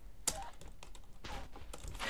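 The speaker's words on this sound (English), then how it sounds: "What am I typing?" Computer keyboard keys are tapped in a quick, uneven run of close clicks, with one sharper stroke near the start. It plays over a low background hum during online gameplay, with no talking.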